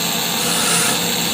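A sanding disc grinds and polishes a super glass stone, making a steady, dense abrasive hiss with no clear breaks, fairly loud and continuous throughout.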